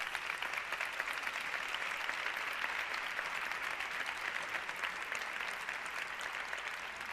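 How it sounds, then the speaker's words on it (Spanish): Sustained applause from an audience at a yoga and spirituality event, steady dense clapping throughout at even loudness with no talk over it. "Un aplauso para Surinder."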